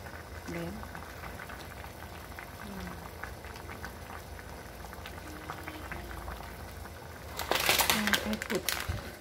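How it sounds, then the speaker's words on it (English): A pot of water with lemongrass, pandan leaves and rock sugar boils steadily with close, bubbling burbles and pops throughout, swelling into a louder, more vigorous bubbling toward the end. "Lemongrass, pandan, at saka rock sugar. Rock sugar. Must boil for 45 minutes."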